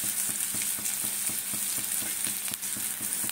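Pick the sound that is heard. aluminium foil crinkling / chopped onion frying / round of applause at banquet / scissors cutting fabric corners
chopped onion frying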